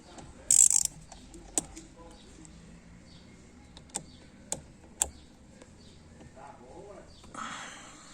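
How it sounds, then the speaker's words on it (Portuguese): A wrench turns a nut on the steering of a Chevrolet Onix that has a steering noise, making a few sharp, isolated metallic clicks and knocks spaced seconds apart. A person talks quietly nearby. "Vou colocar a chave aqui, ó. Aqui. Colocar aqui, ó. Ó a porca rodando lá."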